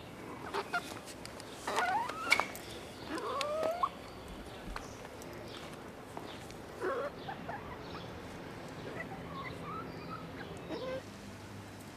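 Two hens clucking around a home and woodworking shop, a few scattered soft clucks and calls early on, then quieter intermittent clucking over a low background.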